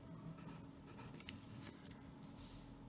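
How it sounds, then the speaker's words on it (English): Pen writing numbers down on paper, steady scratchy strokes with brief pauses, close and fairly quiet, no talking. "Let's write that down again."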